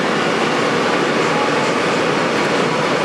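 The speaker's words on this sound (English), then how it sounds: "This is us on J Train." A loud, steady broadband rumble of a moving J Train subway car, constant and close-up with no pauses.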